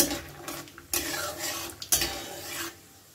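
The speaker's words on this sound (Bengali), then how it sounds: "চিনে বাদামটাও একটুখানি ভেজে নেব।" Peanuts rustle and sizzle in a pan, stirred with a few sharp scrapes and knocks of a utensil against the metal.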